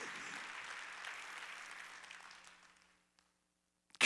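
A church congregation applauds during a Wednesday worship sermon: steady, moderately loud clapping that thins out and fades to near silence after about three seconds.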